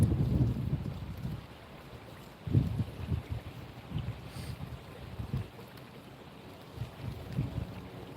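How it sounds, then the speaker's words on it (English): Wind buffets a covered microphone outdoors, producing rumbling low gusts that swell and fade irregularly, loudest at the start and again midway, with no voices. "I do have the mic cover on there to reduce some wind noise"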